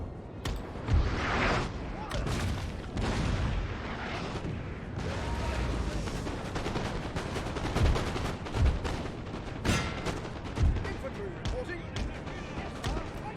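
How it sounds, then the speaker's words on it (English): Cannon and canister fire in a Napoleonic battle in Napoleon: Total War, with repeated booming shots and crackling volleys across a dense, continuous battle din, mixed under speech. "Cannons are going to work. Canister's doing a great job."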